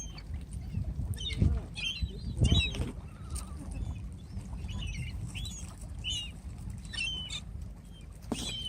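Seagulls caught in a trap flap their wings in brief bursts, with scattered squawks and chirps and some rustling at close range.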